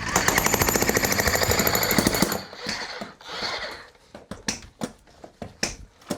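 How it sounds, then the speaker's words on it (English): A heavy jackhammer breaks a concrete basement floor, pounding in a fast, steady, loud rhythm for about two seconds, then stops, leaving scattered sharp knocks and clatter. "apparently that involves a jackhammer"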